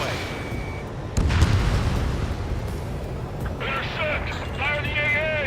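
A missile explosion bursts with a low boom in Ace Combat 7 amid continuous jet and combat noise, with radio voices speaking over the action.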